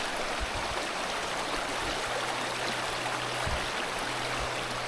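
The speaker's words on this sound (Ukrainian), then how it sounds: "Ого, тут річка ціла." A river runs past a riverbank campsite in Canada's Yukon, a steady broadband rushing of water with low gurgles, even and continuous, moderately loud and close with no voices.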